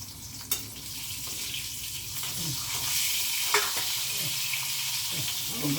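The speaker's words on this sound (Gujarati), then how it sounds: "મરચાં તલાય છે." Stuffed green chillies frying in a pan, a sustained sizzle with a few stirring knocks and scrapes against the pan, heard up close with no talking.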